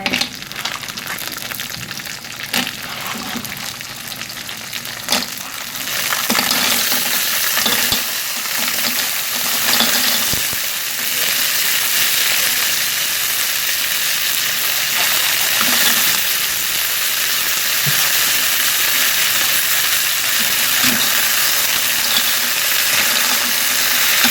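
Clams stir-frying in a pan with garlic and chili, a loud continuous hissing sizzle with occasional scraping and clattering of shells against the pan, close up and without speech.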